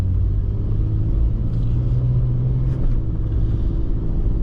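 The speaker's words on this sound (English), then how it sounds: "So I just accelerated up to 30." Inside the cab of a Jeep Cherokee XJ fitted with a THOR cowl induction, the vehicle accelerates with a steady, loud, deep engine and road drone that holds throughout, with only slight swells.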